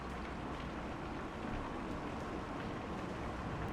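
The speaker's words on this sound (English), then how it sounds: "No wonder it's raining outside." Steady rain falls outside in the Kentucky Route Zero video game, a dense, even hiss that holds constant throughout with no voices over it.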